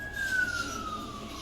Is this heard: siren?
yes